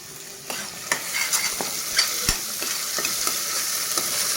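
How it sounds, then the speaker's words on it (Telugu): Onions frying in oil for a Telugu fish curry (chepa pulusu) are stirred in a pan, giving a steady close sizzle with repeated sharp scraping clicks of the spoon at an irregular rhythm. "ఉల్లిపాయ అయితే బాగా వేగిపోయిందండి"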